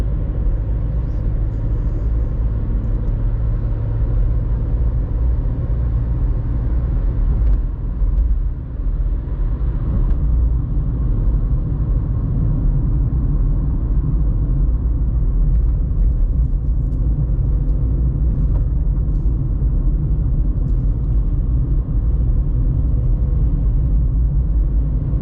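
A light VW Up with a 1.0-litre 60 hp engine pulling hard in second gear at night, heard from inside as a steady, loud low drone and rumble that holds throughout.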